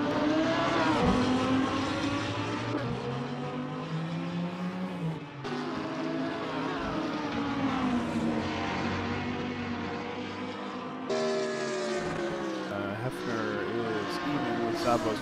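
Lamborghini race car in Gran Turismo, a high-revving engine note rising and falling through gear changes, loud and continuous across the lap, with race commentary talking over it.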